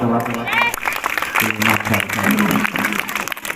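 A school audience at a kids' coaching centre in India claps briefly, with a burst of applause under loud speech and chanting voices.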